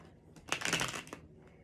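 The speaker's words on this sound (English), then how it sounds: "Kind of a clumsy shuffle" A deck of Tarot of Wonderland cards is shuffled by hand in a short, clumsy burst of riffling and flicking, close and fairly quiet, with no talk.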